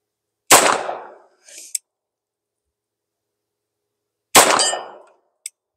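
Two handgun shots fired at a 6-inch steel gong 50 yards downrange, each a sharp loud crack with a decaying echo, followed about a second later by a faint, bright metallic ping of the gong being hit.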